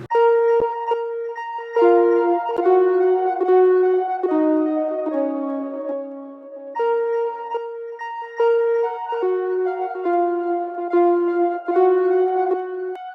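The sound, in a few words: arpeggiated synth brass counter melody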